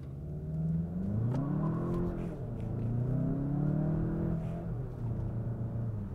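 A 2024 Volkswagen Jetta GLI with a turbocharged engine accelerating at full throttle, engine note rising steadily through the gears with a brief dip at a shift, heard from inside the cabin, loud and continuous.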